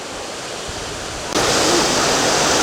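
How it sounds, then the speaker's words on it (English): A waterfall on Lake Superior's western shore in Minnesota, set where the water level runs low, gives a steady hiss of falling water that suddenly grows much louder and fuller midway, then holds as a broad, close rush. "Well, that's a lovely waterfall."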